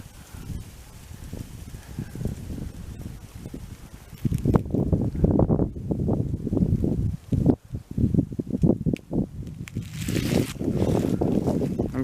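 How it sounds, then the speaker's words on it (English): Wind gusts outdoors near trees, buffeting the microphone with a heavy, rumbling rush that strengthens after the first few seconds and keeps surging unevenly. No one talks. "It's pretty windy"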